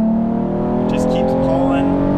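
Nissan 370Z fitted with a cold air intake, pulling hard in third gear: a loud, rising engine drone with strong harmonics that climbs steadily in pitch, heard from inside the car.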